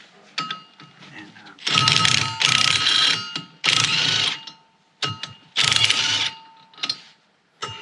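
Metallic clanks and scraping come from working a spacer off the drive sprocket of a Bobcat T190 skid steer, heard as several loud bursts separated by short pauses, with a faint ringing tone running through.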